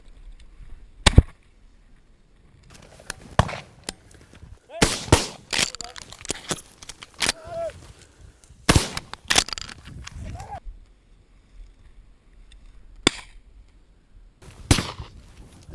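Shotgun blasts during a pheasant hunt ring out as sharp, isolated cracks spread across the stretch, some loud and some distant, with people talking in between.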